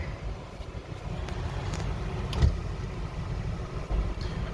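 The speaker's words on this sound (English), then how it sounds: "Let it idle for a minute." A Honda car pulled up and left idling, a steady low engine hum held throughout with faint thumps and a soft bump midway, fairly quiet and with no talk.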